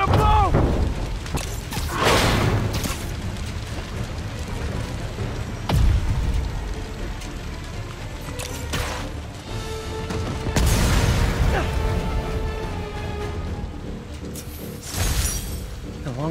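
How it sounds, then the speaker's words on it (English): A tank blows up in Marvel's Spider-Man gameplay, with several heavy booms and crashing debris bursts scattered across the stretch, mixed with game sound effects and a voice speaking. "Tank's gonna blow!"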